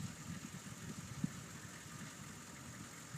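A work truck engine idles steadily at a distance, a faint low rumble with a brief knock partway through, heard alone without talk.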